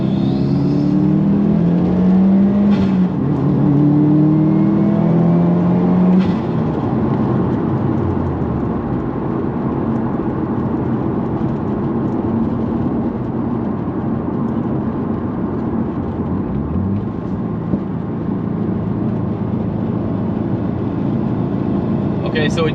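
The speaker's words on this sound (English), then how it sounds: "The flutters sounds amazing on this bypass valve." A car fitted with a GrimmSpeed bypass valve accelerates hard, its engine drone rising in pitch through the gears before settling into a loud, steady rumble.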